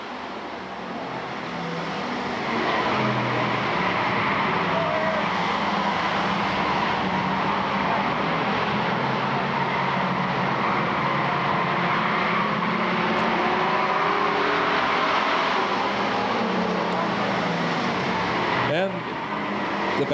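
Bomber-class race cars roar around an oval at Lakeport Speedway in a tightly bunched pack, a loud continuous engine drone that swells and holds steady across the whole stretch, with crowd and track ambience beneath.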